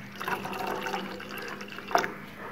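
Milk poured into simmering Adani chai gives close liquid trickling and sloshing, with a brief louder splash near the end.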